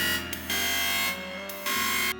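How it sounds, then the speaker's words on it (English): A synthesized chainsaw tone from a Sawyer software synth preset, a sustained, loud buzzing drone that cuts out briefly twice before resuming. "a preset I found in Sawyer called Chainsaw. It sounds like this."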